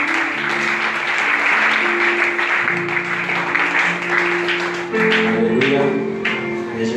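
Church congregation applauding during a French-language worship service, steady broad clapping lasting throughout, with sustained musical tones and a voice running underneath.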